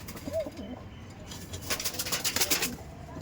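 Pigeons rest in a loft, giving soft low coos close by, with a few fluttering rustles and shuffles that grow busier toward the end.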